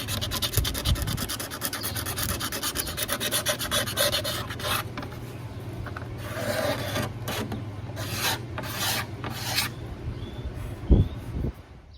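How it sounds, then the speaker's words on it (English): A razor blade scraping excess binding flush on a curly maple dreadnought guitar body, making repeated close, dry rasping strokes in uneven bursts with a few sharper scratches, no talking. "So you take a razor blade, and it's tedious, it's slow, but it cleans it right up."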